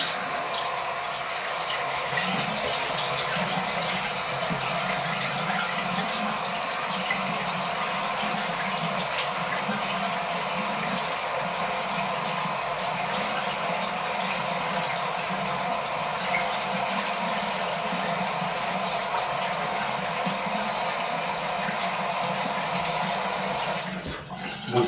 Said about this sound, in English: Okay, so now I'm going to get my face wet.